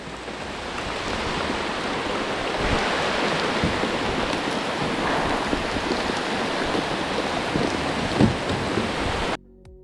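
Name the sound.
heavy rain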